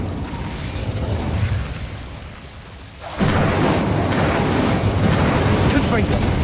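In Hogwarts Legacy, the Incendio fire spell erupts midway through with a sudden, loud fiery whoosh that keeps roaring steadily after a quieter, murky stretch.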